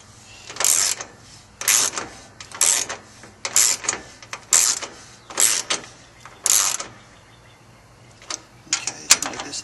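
Bursts of ratchet-wrench clicking come from tightening the bracket bolts on a Jeep Wrangler YJ hood lock, about eight close, loud clusters spread at a steady pace with brief pauses between them.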